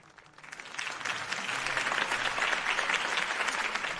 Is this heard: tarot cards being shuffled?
no